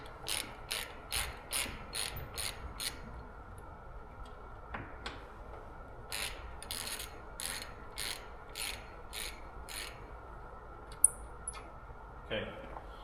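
A hand ratchet unscrews a screw on the rusty rear end of a bus: rapid clicking bursts of pawl ticks, repeated in runs with short pauses, fairly close and clear over a faint background hum.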